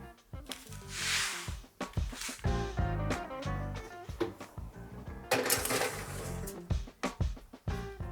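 Twice-baked Italian biscotti get flipped one by one on a baking tray, giving a run of clattering, clinking knocks and scrapes against the metal that come in uneven bursts over several seconds.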